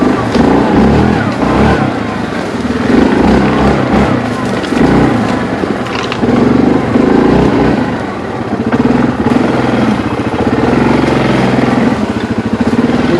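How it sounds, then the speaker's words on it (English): A Kodiak four-wheeler ATV fitted with 35-inch tires rides a narrow wooded trail, its engine droning and revving continuously up close, with brush scraping and a voice talking over it. "This Kodiak with these 35s on here got me brushing trees out here."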